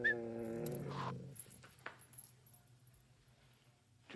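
A dog gives a short whine or whimper at the start, followed by faint rustling and jangling in a quiet room, close but soft.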